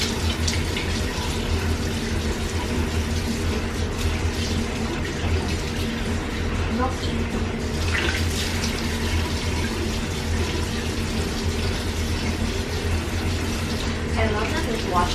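Steady running tap water fills the background while a face oil balm is rinsed off at a sink, a constant mid-level wash with occasional splashes.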